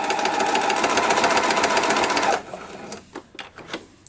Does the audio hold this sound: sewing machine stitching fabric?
yes